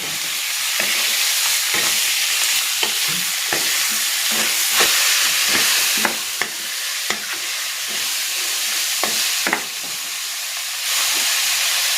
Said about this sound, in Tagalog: Igisa ko na dito itong pork ribs.